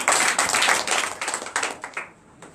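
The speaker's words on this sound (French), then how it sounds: "Donne l'acclamation à Jésus." A church congregation claps for Jesus during a deliverance and prophecy night service, a dense run of sharp, overlapping hand claps that keeps up loudly for most of the stretch, then thins and fades near the end.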